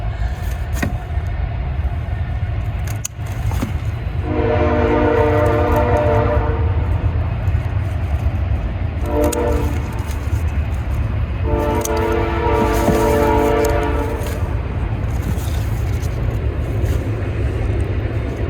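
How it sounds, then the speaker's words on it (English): A train rumbles steadily past a garden, a loud continuous low roar, with two long blasts of its horn sounding in the middle, the second longer than the first. "Excuse the train."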